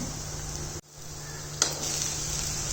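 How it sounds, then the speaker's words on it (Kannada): A tempering of turmeric, coriander, lentil-soup spice powder and chilli sizzles steadily in hot oil, with a brief drop in the sizzle and one quick clink before the frying hiss resumes. "ಹೀಗಾಗತ್ತೆ ನೋಡಿರಿ ಒಗ್ಗರಣೆ"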